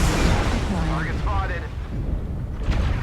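MRM missiles firing from a mech in MechWarrior Online, a dense rumbling volley of booms that rolls through the whole clip under a speaking voice and game sounds.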